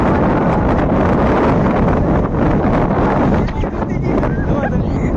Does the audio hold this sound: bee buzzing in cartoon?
no